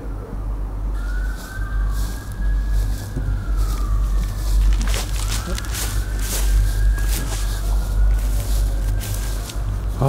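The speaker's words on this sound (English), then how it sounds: "What the hell is all those police sirens?" Police sirens wail from a distance, rising and falling in long sweeps over steady traffic rumble, with a few footsteps and light movement nearby.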